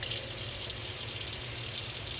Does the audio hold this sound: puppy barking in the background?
no